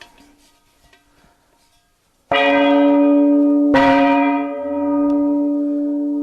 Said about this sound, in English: Here's a CocaCola Gong.